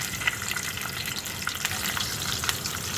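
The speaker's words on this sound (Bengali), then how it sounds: "সরিষার তেলের মধ্যে আমি রসুন 4-5 কোয়া রসুন তেলে নিচ্ছি।" Four or five garlic cloves fry in hot mustard oil, making a dense, even crackling sizzle with small pops and occasional light stirring, close and steady with no voices.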